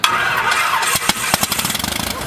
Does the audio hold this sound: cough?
no